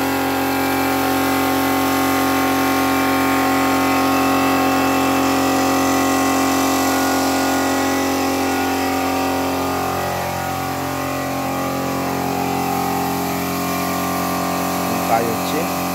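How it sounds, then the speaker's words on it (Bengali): An electric motor drives a paint sprayer for Durga idols in a Kumartuli workshop, a steady loud drone with layered tonal hum that dips slightly partway through, while people talk in the background. "মোটর রঙের মোটর এখান থেকে কারেন্ট দিয়ে করা হচ্ছে"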